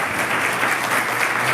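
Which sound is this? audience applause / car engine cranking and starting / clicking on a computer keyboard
audience applause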